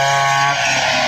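Engine revving steadily in a rice field, a loud continuous motor roar held close for a second with no voices.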